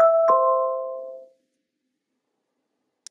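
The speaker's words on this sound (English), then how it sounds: "So when someone presses the button on a doorbell, the HomePod can announce who is actually at the door" A HomeKit doorbell chime sounds a clear two-tone ding-dong close up, ringing out and fading over about a second before silence.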